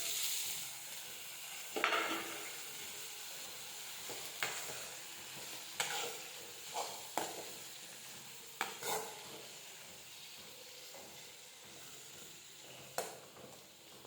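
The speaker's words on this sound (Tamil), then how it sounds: "போட்டு நல்லா வதக்கி கிண்டி விட்டுக்கணும்." Broccoli, boiled two minutes beforehand, sautés and is stirred in a pan with a steady low sizzle, punctuated by scattered scraping strokes of a spoon at irregular intervals.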